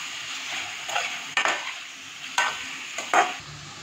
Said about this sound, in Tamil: உப்பு சேர்த்துட்டு நல்லா வதக்கி விட்டுடலாம்.